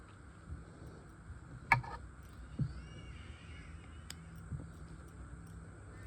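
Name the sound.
birds calling in the afternoon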